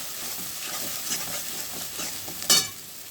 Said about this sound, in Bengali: পেঁয়াজের সঙ্গে ভালো করে আমি এটাকে কষিয়ে নেব।